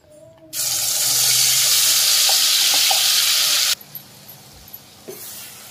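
A ground paste of coconut, garlic, coriander, cumin, poppy seed and sesame hits hot oil for a mutton curry, bursting into a loud, steady hiss that runs about three seconds and then drops to quiet, with a few small clinks afterward.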